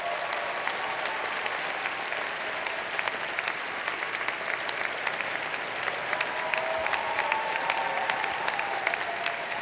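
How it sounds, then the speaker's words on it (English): An audience at a university engineering commencement ceremony gives a steady, sustained round of applause for a faculty teaching award recipient. "give him a round of applause"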